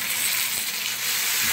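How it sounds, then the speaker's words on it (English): Salmon fries skin side down in a hot pan, giving off a steady, close, bright sizzling hiss with no other sound over it. "You wanna hear that good sizzle"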